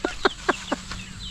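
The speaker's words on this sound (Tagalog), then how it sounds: "Nilantakan ka ng manok." Chickens cluck while pecking at feed, giving four quick, close clucks in a row, then a softer background chatter of birds.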